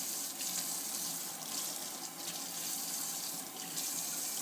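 A kitchen tap runs in a soft, even stream as water soaks a Blythe doll's mohair hair, a steady, faint, unbroken flow with no voices.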